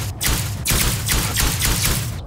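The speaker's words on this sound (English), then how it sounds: "Let's just shoot, see what's gonna happen." Rapid bursts of loud gunfire fill the space in Osiris New Dawn as a weapon fires at a crab-like creature, with about four sustained volleys and barely a pause between them.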